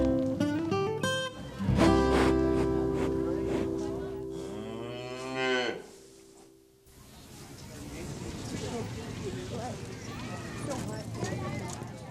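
Beef cattle on a farm in the Peace region give loud, drawn-out moos up close, followed by a busier stretch of scattered animal noise and hoof clatter, with someone speaking over part of it.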